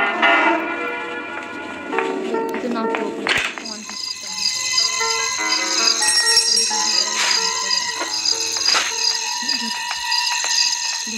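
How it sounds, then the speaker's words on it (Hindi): Bell ringing with a bright, sustained metallic tone that starts after a sharp strike and continues steadily alongside overlapping electronic-sounding chimes, following some earlier mixed noise. "दादाजी भी घंटी बजा दी"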